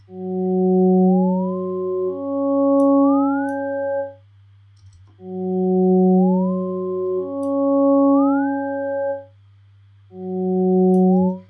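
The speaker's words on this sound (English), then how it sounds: "Let's make sort of a glide up here, and let's actually modulate it up 6 semitones." A sustained synthesizer tone with a smooth upward pitch glide of six semitones, a tritone, repeated several times with short gaps, steady and loud with no voices.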